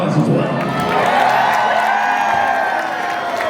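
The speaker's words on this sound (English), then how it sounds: "give yourselves a round of applause as well" An evening event audience cheers, whoops and applauds itself in a loud, continuous crowd roar with scattered shouts.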